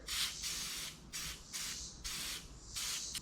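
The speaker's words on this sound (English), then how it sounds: "So as the paint sprays out, it kicks the sawdust up in the air." A can of spray paint sprays onto a board still covered in sawdust, in five distinct hissing bursts separated by short pauses, close and fairly loud with no talking.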